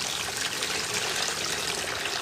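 Water poured while making slime, a steady, even trickle with a soft splashing hiss that runs unbroken and close by, with no talking.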